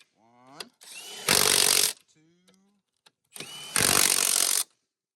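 A Milwaukee power drill drives screws into an air suspension part in two loud, close whirring bursts of about half a second and a second each, with someone talking in between.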